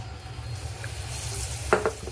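Batter-coated vada slips into hot oil over a low gas flame, giving a steady, close sizzle with a brief burst of bubbling near the end and no voices.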